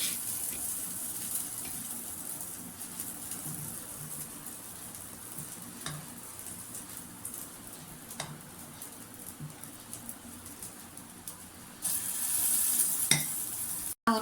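Suyyam sweet balls of jaggery filling dipped in batter frying in oil in the cups of a paniyaram pan, giving a steady soft sizzle throughout with occasional light clicks and a brief louder burst near the end.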